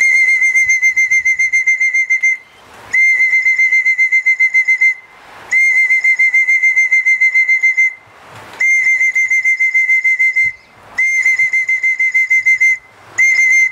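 Loud, shrill whistling to call racing pigeons home repeats in long bursts of rapid trills, each run separated by a brief pause, close and clear with no talking.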